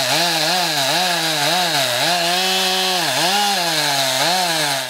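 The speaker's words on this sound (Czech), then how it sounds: "Pak už byl slyšet jen zvuk motorové pily." A chainsaw runs loud and close while felling a frosted fir tree destined for a Christmas display on a town square, its engine whining steadily with repeated rises and dips in pitch as it bites into the trunk.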